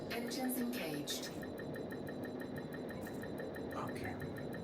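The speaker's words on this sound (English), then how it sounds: "Ship released. Engines engaged." Spaceship engines run in the video game Alone in the Universe, a low steady rumble with a regular pulsing tick, faint under a voice.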